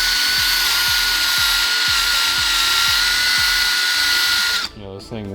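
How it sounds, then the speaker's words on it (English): A Rollo bristle disc spins in a handheld drill, stripping corrosion off an engine block with a loud, steady abrasive whir and a rapid rhythmic chatter that runs continuously, then cuts off abruptly near the end. "It's a Rollo bristle disc."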